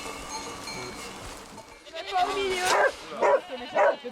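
A sheepdog barks in a few short bursts among a flock of sheep, with bleating mixed in; the calls come close and fairly loud in the second half after a quieter start.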